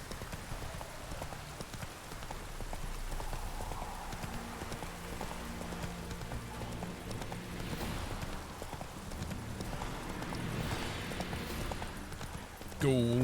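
Roach the horse gallops in The Witcher 3, a steady run of hoofbeats carrying under continuous game music and ambience, with someone talking over it.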